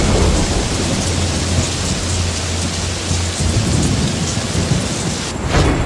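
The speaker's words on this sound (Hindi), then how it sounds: "फिर लगातार 15 दिनों तक बारिश होती रही।" Heavy rain pours down steadily with deep, rolling thunder rumbling underneath, loud and continuous throughout, with no voices.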